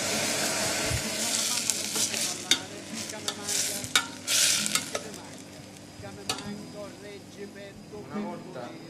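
Meat sizzling and frying in a hot pan, a steady hissing broken by stirring scrapes and sharp bursts as red wine hits the pan.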